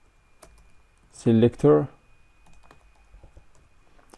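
Soft, sparse clicks of typing on a computer keyboard, faint and close, with a short spoken word in the middle.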